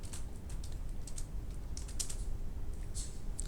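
Typing on a computer keyboard while writing an HTML page, a rapid close run of key clicks over a steady background hiss, with no talking.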